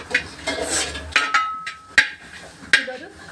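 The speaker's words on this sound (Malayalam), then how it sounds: "നമുക്കിതൊന്ന് ഇളക്കി കൊടുക്കാം" A utensil stirs a coconut and spice paste in a pan for a Kerala thoran, making close, sharp clinks and scrapes against the metal at irregular intervals, about five distinct knocks with soft rustling between them.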